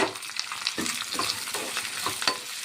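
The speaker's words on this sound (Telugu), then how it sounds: "ఇప్పుడు ఉల్లిపాయ, పచ్చిమిర్చి వేసుకుందాం." Onion and green chilli frying in hot oil in a pan with tempering spices and curry leaves, a soft sizzle broken by repeated stirring scrapes at a steady rhythm, close and fairly quiet.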